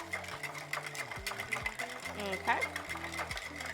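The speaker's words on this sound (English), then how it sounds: "Now, instead of shaking it, we're gonna stir." A spoon swirls through a Gin and Juice cocktail over ice in a mixing glass, giving soft, rhythmic clinking and sliding close by, and a voice speaks briefly partway through.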